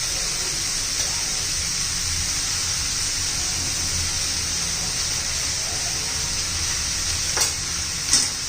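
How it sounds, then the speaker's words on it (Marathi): Cluster beans with turmeric stir-fry in a hot pan, giving a loud, steady sizzle that runs throughout, with a couple of sharper scraping bursts near the end. "पुन्हा एकदा चांगलं परतून घेऊ."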